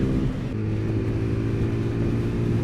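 A TVS Apache RTR 200 motorcycle engine revs steadily and loudly up toward about 7750 rpm, a continuous close-up drone with no talking.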